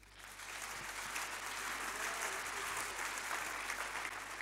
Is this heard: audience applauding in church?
yes